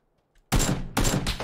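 Gunfire from the game PUBG arrives as two loud, close bursts after a near-silent start, each a dense crackling blast that fades briefly before the next.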